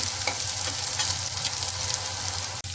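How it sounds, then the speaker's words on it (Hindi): Dried red chillies fry in oil over a slow flame while being stirred, giving a steady, close, dense sizzle that runs unbroken throughout with no voices. "इसमें सूखी लाल मिर्च ऐड करेंगे और इसे स्लो फ्लेम में धीरे धीरे से हिलाते रहेंगे।"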